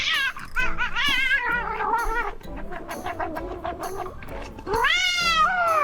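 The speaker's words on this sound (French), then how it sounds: "Oh encore un chat qui teste la chips la plus piquante." A cat yowls and meows repeatedly in loud, wavering cries after tasting the spiciest chip, with a strained, drawn-out wail rising again near the end.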